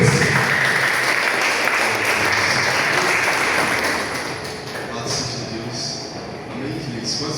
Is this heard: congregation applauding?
yes